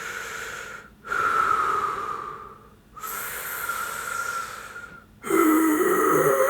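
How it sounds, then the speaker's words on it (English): A man's slow, close breathing with a slight wheeze, in three long hissy breaths separated by short silent pauses, the last one louder and rougher. "listen to my breathing."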